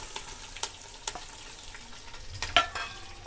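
Curry leaves and garlic frying in hot oil with dried red chillies, giving a crackling sizzle broken by sharp spits and pops, close and fairly loud.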